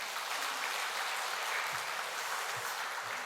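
A church congregation applauds together during a Sunday Parents' Day worship service: dense, steady clapping fills the whole stretch at an even level, with no voices rising above it.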